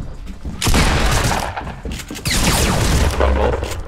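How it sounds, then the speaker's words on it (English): Gunfire in the video game Fortnite during a tournament match, bursts of loud rapid shots and impacts layered over a busy game background, with brief pauses between volleys. "We're getting shot at."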